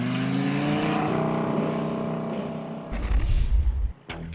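GT race cars return to the track at a 2013 circuit race, one engine droning with rising, layered tones before a louder, rumbling burst of passing cars and a sharp final roar, with no talking.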